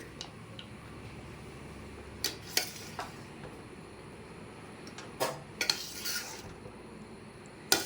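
Chicken fried rice being stirred in a pan over a low flame, with soft background sizzle and scattered sharp clicks and scrapes of the utensil against the pan, no talk.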